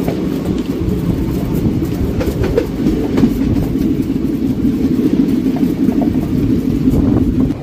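A passenger train on the Rajahmundry to Araku line pulls away, giving a loud, steady rumble with faint clattering of the wagons and no voices.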